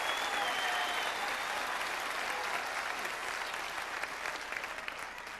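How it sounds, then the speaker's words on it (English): Sustained standing ovation from a packed town hall audience on health care, dense clapping and cheering filling the room at steady, loud intensity throughout, easing only slightly toward the end. "Everybody in the room is standing up and applauding her question"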